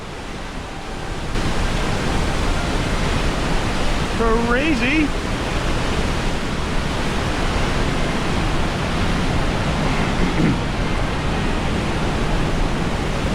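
A waterfall in Iceland roars as loud, constant rushing water, close by. A person exclaims briefly over the noise.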